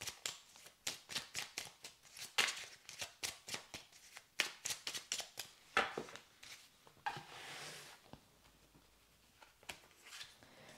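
Rune oracle cards being shuffled and drawn by hand, a quick run of crisp riffling flicks and slaps, close and fairly quiet, pausing briefly before a few softer card sounds near the end.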